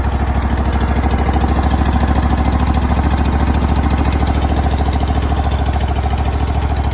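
A Briggs & Stratton Vanguard engine swapped into a John Deere 318 garden tractor idles at low RPM after a relatively cold start, a loud, steady, close-up thumping drone with a fast, even pulse that runs unbroken throughout.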